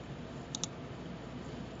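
Two quick, faint mouse clicks sound in close succession over a quiet room hiss.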